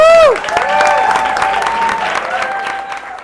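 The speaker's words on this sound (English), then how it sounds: "so let's hear one more round of applause." A round of audience applause at a Nerd Nite talk night in Orlando, a crowd clapping steadily and fairly loud, mixed with cheering voices and a sustained tone that fades away at the start.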